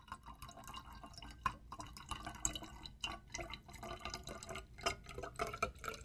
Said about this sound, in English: I now have filled the volumetric flask.